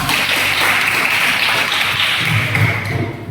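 A vocational high school class claps together in a classroom, a steady patter of close hand claps and taps that carries on for a few seconds before tailing off.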